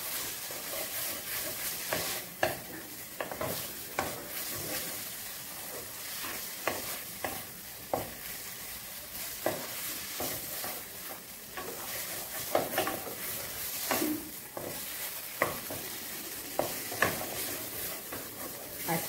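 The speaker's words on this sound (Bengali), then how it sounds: "একটু সময় 5 মিনিট আমি কষছি" Spiced masala being sautéed and stirred in a pan for an egg omelette curry, giving a steady close sizzle with repeated scraping stir strokes throughout.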